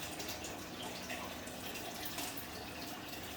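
Water pours steadily into a roughly 60-litre fish tank from a bailer, a continuous close splashing rush with no voices.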